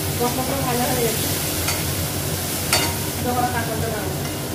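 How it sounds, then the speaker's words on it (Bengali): Garlic and ginger spice paste fries in a pan, a steady close sizzle with scraping strokes of a spoon stirring through it, and a few sharper spits along the way. "মশলাটা একটু ভেজে নেব"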